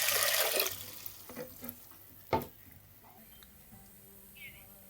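Tap water gushing briefly at the start as peas for Jamaican rice and peas are washed, then trailing off into light splashes, a clunk and faint drips, close and quiet.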